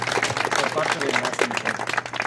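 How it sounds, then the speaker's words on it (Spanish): A roomful of people claps at a press conference for the 2022 Feria de la Naranja in Oxkutzcab, with brisk, steady applause running beneath someone talking. "Que se oiga el aplauso bonito"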